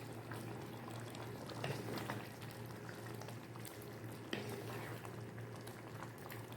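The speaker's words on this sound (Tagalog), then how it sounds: "So, pakuluan na ng konti." Ground beef giniling simmers in a pot, a steady low bubbling hiss at moderate level with a couple of faint clinks, no talking.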